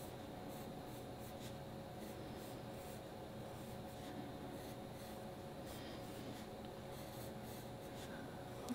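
A pencil sketches the lines of a tree on paper, producing a continuous soft scratching and rubbing made of repeated quick strokes, close and quiet over a steady background hum.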